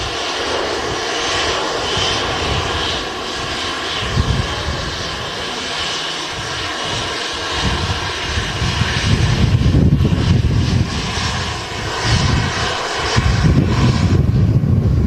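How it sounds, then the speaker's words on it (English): British Airways Airbus A320neo jet rolling down a runway at Manchester Airport, a loud sustained engine roar with broad rumble that swells and grows rougher toward the end, heard from a distance. "The A320 Neo now rolling over on runway 2."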